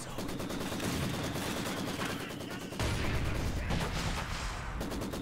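Light machine guns firing in Company of Heroes 2, dense overlapping bursts of automatic gunfire in a steady rattle, swelling slightly partway through, with scattered single shots mixed in.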